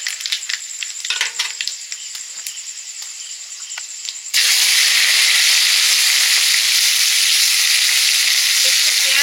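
Black cumin and dried chili hit hot oil in a pan: light scattered crackles, then a sudden loud, steady, close sizzle that continues to the end.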